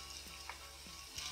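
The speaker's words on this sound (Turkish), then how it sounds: "Şöyle salçamı da kavuracağım 1-2 dakika kadar." Pepper and tomato paste sautés in a pan with a soft, constant sizzling hiss, broken by a few light scrapes from stirring and no voices.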